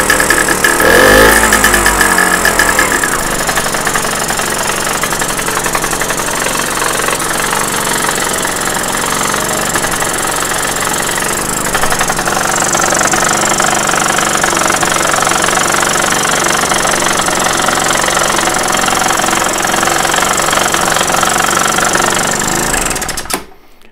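Red Solex 3800 moped engine running and settling toward idle, a loud close rapid knocking putter that holds steady for about twenty seconds with slight surges, no talk, then cuts off abruptly at the end.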